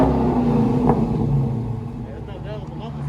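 A Dodge Charger Scat Pack with a 6.4L HEMI V8 and Dynomax Race Bullet exhaust, mufflers still fitted, is held at about 4,000 RPM, giving a loud, steady close-up drone that eases slightly toward the end while voices talk over it.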